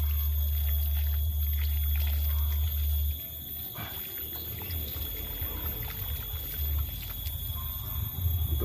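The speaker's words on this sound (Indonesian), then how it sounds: "Setelah itu kita siram lagi." Water is poured onto soil around a newly planted small horn plantain banana sucker, a steady low splashing pour that eases midway and continues more softly, close by.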